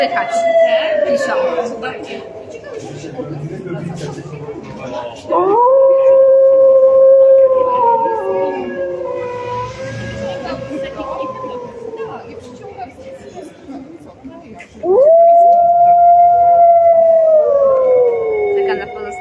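Long wolf howls rise and slowly fall, one starting partway through and another near the end, answered by fainter howling in the background at an outdoor gathering near Bielsko-Biała, with people's voices underneath.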